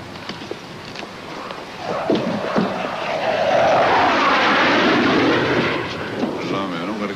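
An airplane approaches, its engine roar building from a distant rumble to a loud sweeping drone before easing off again, with faint talk in the background.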